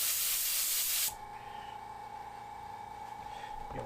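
An airbrush spraying paint, run from an old SmartJet Pro compressor, gives a loud, close hiss for about a second that cuts off abruptly, then a steady, quieter compressor hum continues alone.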